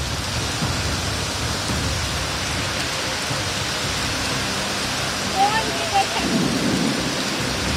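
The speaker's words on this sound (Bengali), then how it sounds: "ইতিমধ্যেই কলকাতায় বৃষ্টি শুরু হয়েছে।" Heavy rain pours down over Kolkata in a constant, dense hiss that never lets up, with a low rumble underneath.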